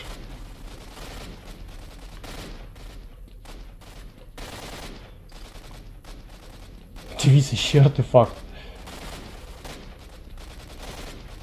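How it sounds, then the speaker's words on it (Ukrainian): A brief burst of rapid gunfire in S.T.A.L.K.E.R.: Shadow of Chernobyl rattles out in a cluster of loud shots, with someone talking over a steady game soundtrack. "Хто там, що там стріляє, я не викупаю."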